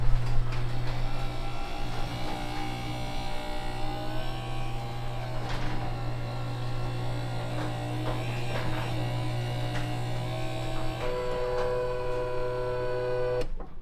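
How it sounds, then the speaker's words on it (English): A Guardian 728B garage door opener motor runs steadily for about fourteen seconds, a constant low electric hum and drone with mechanical whine, fairly close and even in level, with no talking. "So again, this motor is not the quietest, but it's also not the loudest."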